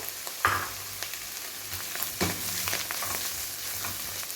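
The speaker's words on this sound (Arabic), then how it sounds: "ونشحروا هذا الفطر مزيان ونضيفوه على الخليط" Mushrooms sautéing in a pan give a soft steady sizzle with occasional stirring scrapes and clicks, close and fairly quiet with no talking.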